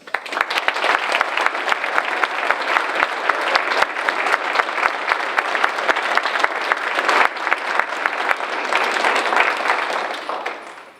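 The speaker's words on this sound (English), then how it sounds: "if we could give a great big round of applause to all of our students as they find their way back to their seats" Applause for students at a military enlistment recognition ceremony, a loud dense crowd of hands clapping continuously for about ten seconds before tapering off, with no speech.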